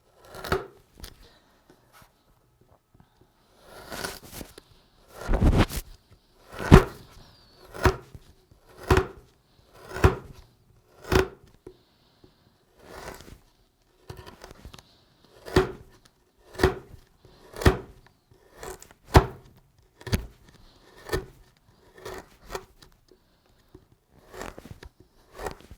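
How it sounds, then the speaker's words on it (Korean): A 4mm wood chisel cuts a joint with a series of sharp, close taps and chops at an uneven but repeated rhythm, each strike short and crisp, with quiet gaps between. "4mm 끌을 이용해서 끊어주는 겁니다"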